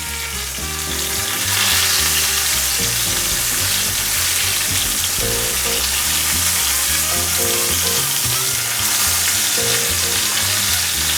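Garlic and rosemary frying in a hot pan for a Valentine's Day dinner give a loud, constant sizzle with occasional crackles and stirring sounds, with no voices.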